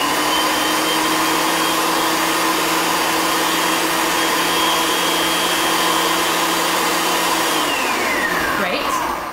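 A kitchen blender pulses dry ingredients, giving a loud, steady whirring motor drone that runs continuously before winding down at the end.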